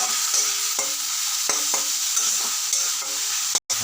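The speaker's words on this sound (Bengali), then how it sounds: "পেঁয়াজটাকে দিয়ে লঙ্কাগুলো দিয়ে দিলাম এখন একটু ফ্রাই করে নেব" Onions and green chillies fry in a hot pan, giving a bright, continuous sizzle broken by repeated scraping strokes of a spatula, with a sudden brief dropout near the end; no talking.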